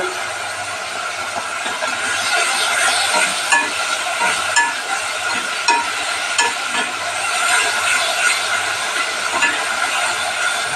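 Sour yogurt masala for a papaya fish curry sizzles steadily in a hot pan while a spatula scrapes and stirs it in a repeated rhythm, close and fairly loud.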